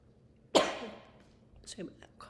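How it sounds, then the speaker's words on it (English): A single sharp cough bursts out near, trailing off over half a second, followed by faint breathy movement sounds in a quiet room during a back-strengthening yoga session. "I'm coughing."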